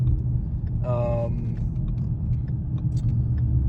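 A 2017 Ford Mustang GT with loud 3-inch exhaust idles with a deep, steady low rumble throughout, close and constant, with a brief tonal whine early on.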